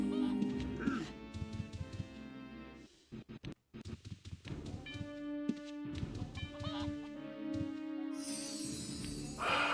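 A summoned chicken in the Ultima Online video game squawks and clucks amid layered game sound effects and music, with short choppy bursts and a brief drop-out midway.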